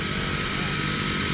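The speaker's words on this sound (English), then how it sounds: "That's our aeroplane. It's waiting for us." Propeller aeroplane idles on the ground waiting for skydivers, a loud, constant engine drone with an even buzz and no change in pitch.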